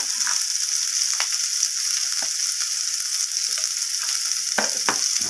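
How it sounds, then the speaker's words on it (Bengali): Bitter gourd pieces frying in a pan with turmeric and salt give a steady, bright sizzle throughout, with a few soft scraping stirs of the spatula and no talk. "আর উচ্ছেগুলোকে হলুদ ও লবণের সাথে ভালোভাবে লালচে করে ভেজে নেব"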